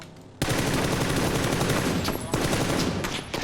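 Rapid automatic gunfire rattles loud and close in a battle royale shooter match, with a sustained burst, a brief pause near the end, then more shots.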